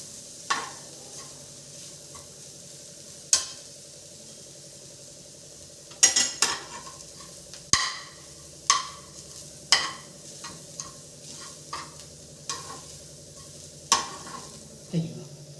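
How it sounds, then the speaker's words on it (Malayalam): Ingredients are sautéed in a pan in a home kitchen, with a low steady sizzle beneath repeated sharp clanks and scrapes of a spoon against the pan at irregular intervals, close and distinct, with no speech. "ചരക്കിയതും കൂടി ഇട്ട് കുറച്ച് നേരം ഒന്ന് അതിനെ വഴറ്റണം"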